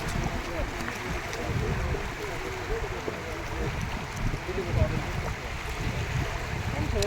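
The strong, fast current of the flooded Padma river rushes in a dense, constant roar of churning water, loud and close, with a gusty rumble underneath.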